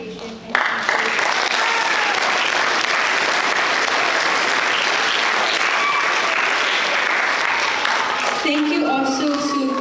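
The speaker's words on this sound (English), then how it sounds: "Let's give a round of applause to the Kauai Department of Education" An auditorium audience at a multicultural speech festival in Kauaʻi breaks into dense, steady applause that holds loud and even for several seconds before thinning out, with a voice emerging near the end.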